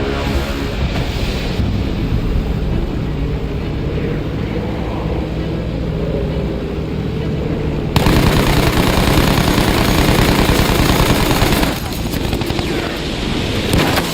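Sustained, rapid gunfire in the Fortnite video game as German enemies are shot down, a loud, dense clatter that fills the whole stretch and surges louder partway through with some booming underneath.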